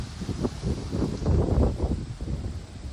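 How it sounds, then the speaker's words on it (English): Gusty wind buffets the microphone outdoors in a flower garden, rising and falling in rough rumbling waves with faint rustling. "it's extremely windy out."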